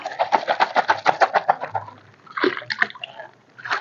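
Water sloshing inside a container as it is shaken with a bag of red lime paste, a rapid run of rhythmic splashing pulses for about two seconds, then a few more irregular sloshes, fairly close.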